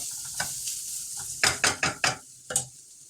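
Onions sauté in a pan for crab curry, a soft sizzle broken by a run of close, sharp scraping strokes of a spoon against the pan, with no voices.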